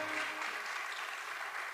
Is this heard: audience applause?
yes